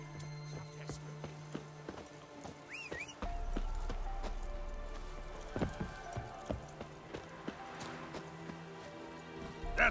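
Roach, the horse in The Witcher 3, with hoof clip-clops and a whinny over ambient game sounds, the hoofbeats turning into an irregular run partway through, and someone speaking briefly.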